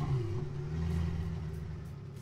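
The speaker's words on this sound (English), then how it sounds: "let's start by hearing the startup" A video game car engine, the Carbonara in Roblox Jailbreak, cranks and catches, settling into a low, steady idle hum, fairly quiet with no talking.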